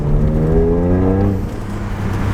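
A Toyota GR Corolla fitted with an MBRP exhaust drives along, its engine holding a steady, fairly loud harmonic drone that rises in pitch and then eases off as it shifts, heard alone from close by.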